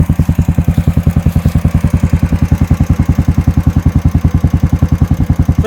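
A motorcycle fitted with a Red Rooster performance aftermarket exhaust idles outdoors in rain, a loud, close, steady thumping beat with evenly spaced pulses and no voices over it.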